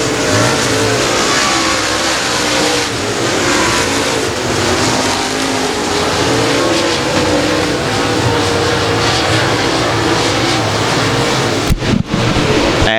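Race cars roar around a dirt speedway at Boothill Speedway, a loud, continuous engine drone that swells as the cars pass, with a brief buffeting burst near the end.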